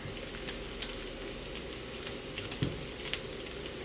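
Bacon or pancetta sizzles steadily in a pan as its fat renders, a continuous close crackle with a few sharper pops and no voices.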